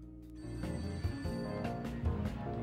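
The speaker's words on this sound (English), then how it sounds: "Okay, telephone's ringing." An old-fashioned telephone bell rings inside the 1970s-set video game Serial Cleaner, a continuous trilling ring over soft background game music, moderately quiet.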